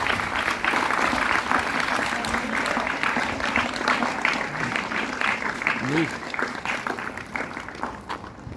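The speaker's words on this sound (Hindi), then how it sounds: "तालियों से स्वागत करें।" Applause from an audience at an Independence Day celebration, a dense continuous wash of clapping that holds steady and fades slightly toward the end, with a voice faintly heard beneath.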